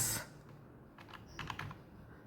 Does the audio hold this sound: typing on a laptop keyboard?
yes